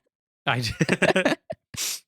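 Breathy gasps and catches of voice build toward a sneeze, ending in a short, strained burst of air that never quite fully releases.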